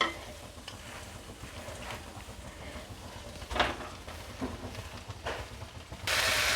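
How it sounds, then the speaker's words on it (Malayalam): A spoon stirs grated coconut and drumstick leaves in a wide flat pan: soft scraping strokes come at an irregular pace over a faint, continuous sizzle, with no talking. "ഇങ്ങനെ പതുക്കെ ഇളക്കി ആ നാളികേരമൊക്കെ നന്നായിട്ട് മിക്സ് ആവണം"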